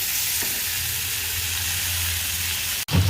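Potatoes sizzle steadily in oil over low heat while being stirred, a continuous close frying hiss with a faint scrape near the end.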